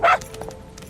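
A single short puppy yip from Metal Gear Solid V: The Phantom Pain, sharp and close at the start, then fading into quiet game ambience.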